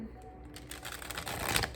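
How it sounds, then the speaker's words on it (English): Tarot cards getting a quick shuffle by hand, a soft papery riffling and rustling that builds toward the end over faint background noise, with no talk. "I already shuffled these a lot, but I just want to give them another quick shuffle for you guys."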